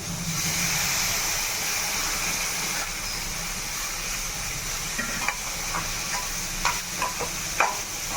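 A spatula stirs ridge gourd and carrot fry in a hot pan, a steady low sizzle and hiss running throughout with a few sharper scraping knocks near the end.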